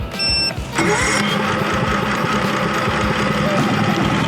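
An EcoFlow smart generator starts at the press of a button: a brief tonal whine, then the engine catches and settles into a loud, steady mid-pitched running drone with a constant vibrating rumble.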